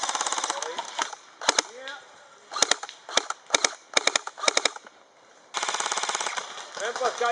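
Airsoft G&P M63A1 Stoner light machine gun firing outdoors during a game, repeated rattling bursts of rapid mechanical clicks, some long and some short, close and fairly loud with brief gaps and faint voices.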